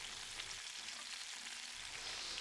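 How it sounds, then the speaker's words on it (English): Pieces of game meat frying briskly in a pan give off a loud, dense, continuous sizzle, close up and steady, with faint stirring and no voices. "We want to fry these pieces briskly, so just to brown them outside."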